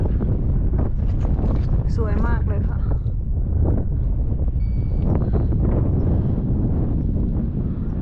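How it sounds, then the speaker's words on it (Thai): Strong wind buffets the microphone on a mountain summit during a hike, a loud continuous roar and rumble running the whole time while someone speaks over it. "ลมแรงนะคะ อาจจะได้ยินเสียงลมเลยค่ะ"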